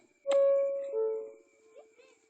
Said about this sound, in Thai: airport bing bong